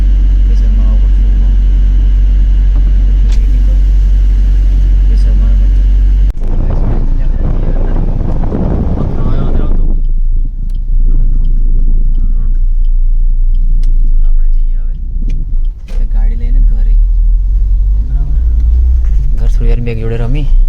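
A car running on CNG drives along a road with a steady low engine rumble and wind noise throughout, while people talk inside the car.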